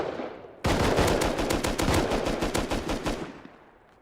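Automatic gunfire in Rust, a loud rapid burst of about twenty evenly spaced shots lasting nearly three seconds, then fading out.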